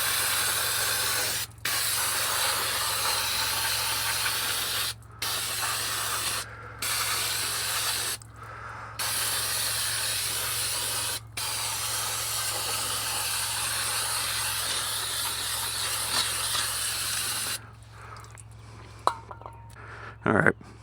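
Cleaner sprays in long, forceful hissing bursts onto the brakes of a 2012 Toyota Tacoma, several close-up sprays separated by brief pauses, with a low steady hum underneath and a few clinks at the end.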